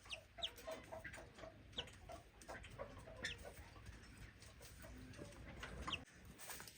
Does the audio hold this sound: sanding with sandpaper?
no